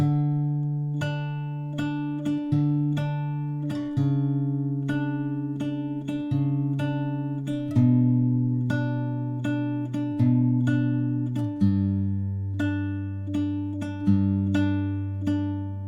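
A guitar strums a chord progression, each chord ringing out and decaying before the next, in a steady unhurried rhythm with no talking.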